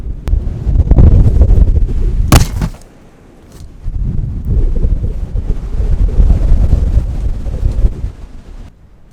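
Strong wind buffets a campsite under a natural shelter, roaring in heavy gusts that swell and ease with a short lull in the middle, with loud rumbling on the microphone and no speech.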